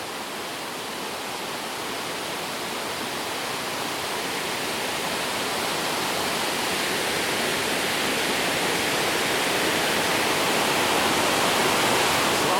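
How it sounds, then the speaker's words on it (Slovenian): Water gushes out of the rocks at the source of the Vrelo river in Tara National Park, a dense, loud, continuous roar with no breaks that swells slightly over time and has no voices. "Iz vseh skal tu ven curi. Kar precej vode."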